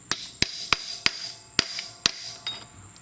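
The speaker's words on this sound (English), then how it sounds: "That's where you could use a little more force, say like a hammer." Hammer tapping a countershaft seal into a Honda CRF150F motorcycle engine case: seven sharp, close metallic knocks at uneven intervals, the last one softer, with a quiet workshop in between.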